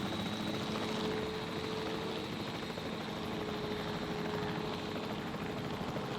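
The capture team helicopter in Jurassic World Evolution 3 gives a continuous, steady rotor and engine drone that holds at an even, moderate level throughout, with no talk.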